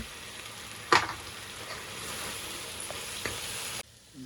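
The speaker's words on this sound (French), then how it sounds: "Dans le wok, on met la sauce tomate décongelée." Thawed tomato sauce with ginger heating in a wok, a soft continuous sizzle opening with a sharp clatter, then a faint scrape before cutting off.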